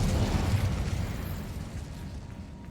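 The Incendio fire spell cast in Hogwarts Legacy, a loud roaring burst of flame that is strongest at the start and then tails off into a fading rumble, with no voices.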